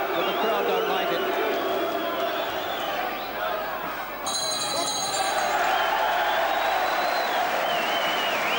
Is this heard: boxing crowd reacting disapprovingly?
yes